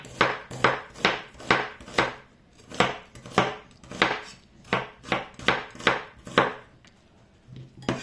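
Knife slicing a large onion into thin rings on a cutting board, about fifteen crisp, evenly spaced chops close up with short pauses, no talking.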